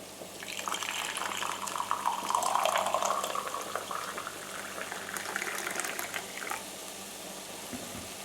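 Water pours steadily into a cup for basmati rice in a kitchen, a close, continuous splashing rush that swells in the middle and then fades to a quiet background, with no talking.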